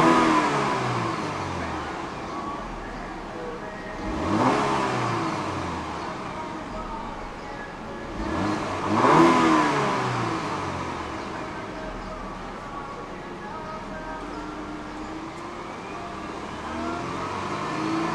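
A 2014 Porsche Macan 2.0T with twin rhombus-shaped exhaust pipes, its engine idling and then rising in two distinct revs before settling back, heard up close with no one talking.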